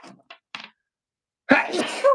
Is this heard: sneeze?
yes